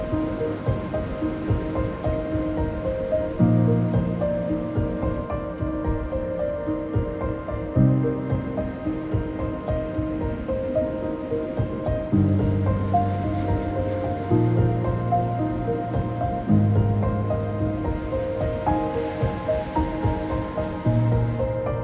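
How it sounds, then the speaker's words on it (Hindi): Wide mountain river near Mana Village in Uttarakhand, a steady broadband rushing roar of flowing water that stays loud and continuous throughout, with no voices. "यहाँ पे नदी काफ़ी वाइड है नीचे"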